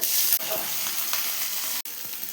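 Mustard seeds, ginger and garlic sizzle steadily in hot frying oil for a potato fry, a close, bright, continuous crackle with a couple of brief dips, and no voices.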